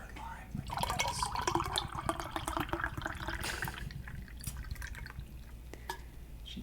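Sparkling water poured into a drink with lime makes a close, crackling fizz of popping bubbles and drips that grows busy and then slowly thins out.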